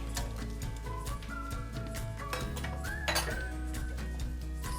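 Lamb stir fry with onions stirred in a pan, with scattered metallic clinks and scrapes of a utensil against cookware over a steady background hum.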